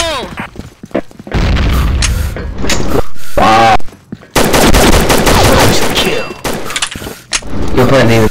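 Video game combat erupts with bursts of rapid gunfire and a loud grenade blast, sharp shots coming in clusters with brief gaps, while players shout over the action.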